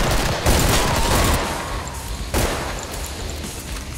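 Rapid gunfire from a recoil gun in the video game Killing Floor, a loud, dense fusillade of close shots with two heavier bursts, continuous and without talk.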